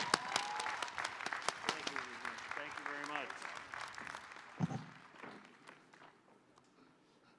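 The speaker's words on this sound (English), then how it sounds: "Let's give you another round of applause." Applause at a 2021 School of Business commencement ceremony, a full round of clapping that thins and fades out while someone speaks over it near the microphone.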